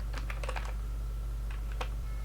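Quick bursts of keystrokes on a computer keyboard while entering a command in the Windows command prompt, two short clusters of clicking taps separated by a pause, close and fairly quiet over a faint steady hum.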